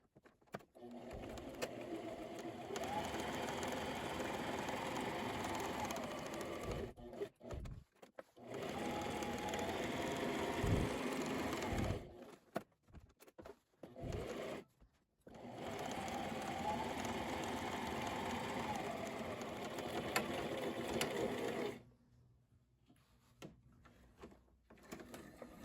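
A sewing machine stitches quilted fabric exterior pieces for a book sleeve in three long runs of rapid whirring, separated by brief pauses with small handling clicks, with quiet room tone at the end.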